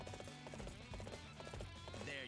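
Horse hooves in Dynasty Warriors 8: Xtreme Legends Definitive Edition on Switch, a rapid, regular clip-clop of a ridden horse under game music, with a voice talking over it.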